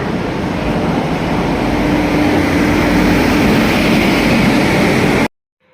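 Inside a moving passenger train in the evening, a loud, steady rumble and rattle run without a break, then stop suddenly near the end.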